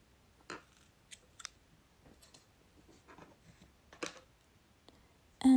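Scissors snipping crochet yarn in a series of sharp, close clicks with uneven gaps, each cut short and crisp, finishing with a louder thump.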